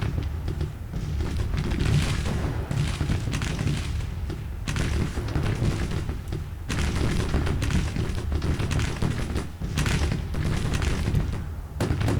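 Gatling guns fire in a Civil War battle in the strategy game Grand Tactician: Civil War, a dense, unbroken roar of rattling gunfire with heavy booms rolling underneath.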